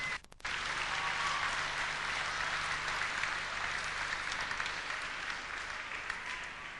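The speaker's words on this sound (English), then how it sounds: "we'll give them a round of applause" An audience at a Scór na nÓg All Ireland final breaks into sustained applause, dense clapping from a large hall crowd that starts abruptly after a brief pause and holds steady, tapering slightly toward the end.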